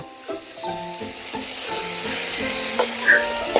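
Softened vegetables frying in oil in a pan while a mixed five-lentil dal is prepared, a steady close sizzle with occasional stirring scrapes and a faint tonal hum underneath.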